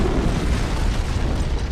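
An antimatter charge explodes aboard a ship in a Halo CE cutscene, a loud, rumbling blast that rolls on as a sustained roar through the whole moment.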